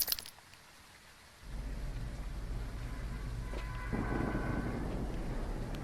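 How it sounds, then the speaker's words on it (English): Thunder rumbles and rain falls in the Phasmophobia ghost-hunting game at Tanglewood Drive, a low steady storm drone that swells in after a quiet start and grows louder with a heavier rain wash near the end, with no talking. "And it's thunder and lightning."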